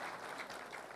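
Brief burst of steady crowd clapping at a consultative forum with Tharaka Nithi County leaders, applauding the former leaders, fairly faint and even throughout.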